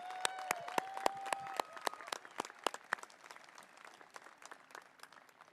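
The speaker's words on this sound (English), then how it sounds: "Let's give Rudy a big round of applause." Applause from a commencement crowd honoring a graduate at a university fall ceremony: a burst of clapping that is fairly quiet and distant. It fades over several seconds, with a faint tone held briefly under it.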